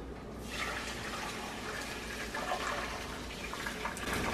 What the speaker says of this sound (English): I'm gonna pour the boiling water over it with some soap and just kind of let those sit